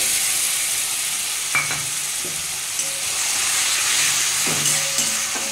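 Spice paste of chilli, turmeric and cumin fries with browned onions in a pan, a loud continuous sizzle and hiss with occasional stirring scrapes.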